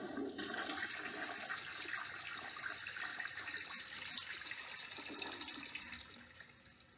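A toilet flushes with a loud, steady rush of swirling water that holds for about six seconds, then drains away and fades out at the end.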